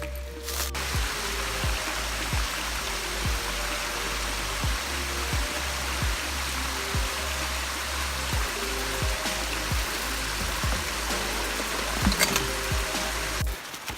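Hillabee Falls on the Pinhoti Trail pours in a steady, broadband rushing roar, constant and fairly close, with faint periodic ticks underneath and no voices.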